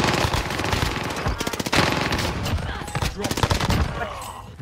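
Dense automatic gunfire in Call of Duty: Warzone rattles in fast bursts of loud, overlapping shots, close and continuous through the whole stretch, with occasional in-game voice lines mixed in.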